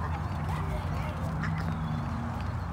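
Duck quacking at a park, close by over steady outdoor noise with a low hum and background voices.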